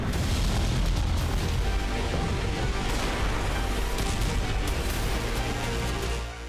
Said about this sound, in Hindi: क्लस्टर विस्फोटक की वजह से यहां कई धमाके हुए